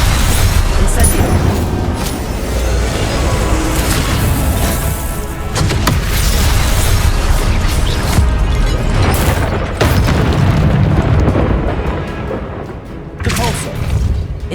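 Spell effects from a Hogwarts Legacy combat sequence, including a fiery Incendio blast, as a dense, loud stream of booms, bursts and crackling impacts layered over game music, with a voice calling out spell names.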